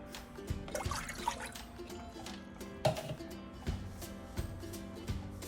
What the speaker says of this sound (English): Onto that, I'm gonna be adding about 1 cup of water.